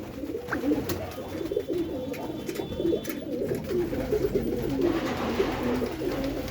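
A flock of about a hundred pigeons kept for sale coos softly and continuously nearby, with fluttering and rustling mixed in.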